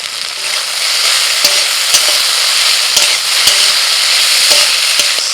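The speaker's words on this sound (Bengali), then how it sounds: "এবার পেঁয়াজ কুচুনো দিচ্ছি, সাথে লঙ্কা কুচুনো।" Chopped onion and chili sizzle loudly and steadily in hot oil in a pan, with a constant bright hiss broken by regular clicks of stirring.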